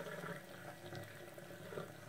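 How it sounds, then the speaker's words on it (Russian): Hot water mixed with citric acid, used to clean cartridge cases, is poured out in a bathroom, a quiet steady gushing and splashing that lasts about two seconds. "горячую воду выливаю"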